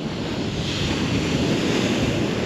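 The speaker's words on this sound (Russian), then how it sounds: "такой вот, прям волны идут ровно, красиво" Sea waves roll steadily onto a beach at Lazarevskoye on a January day. The surf makes a loud, continuous wash with wind noise on the microphone and no voices.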